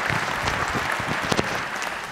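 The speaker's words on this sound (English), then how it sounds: "How about a big round of applause for two great guys?" Sustained applause from a business conference audience, steady dense clapping throughout at moderate distance, a few louder individual claps standing out, no talking over it.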